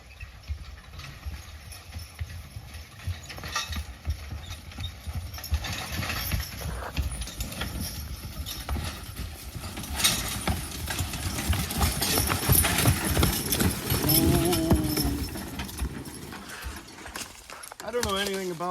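Hooves of a six-year-old heavyweight Belgian draft horse walking in the woods, a soft, steady clip-clop close by under a low engine-like rumble and outdoor noise, with occasional rustles and knocks.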